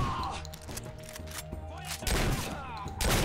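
In the first-person shooter Wolfenstein Blade of Agony, a Browning gun fires a rapid series of sharp bursts and impacts at close range, mixed with crashes and clatter of combat effects.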